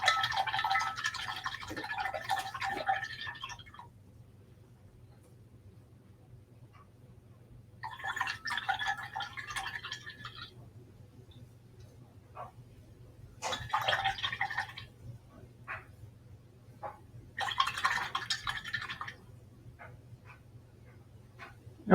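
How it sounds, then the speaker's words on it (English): A paintbrush is rinsed in a water cup in four separate bursts of swishing and clinking, each lasting a few seconds, with quiet gaps between them and a low steady hum underneath. "Let me rinse my brush."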